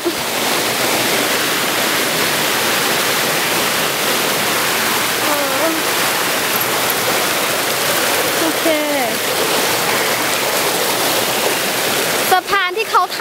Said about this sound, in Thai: คือเป็นน้ำตกธรรมชาติ